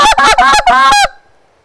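Four quick, loud honks from a goose call, blown close up in a rapid run, ending abruptly into silence.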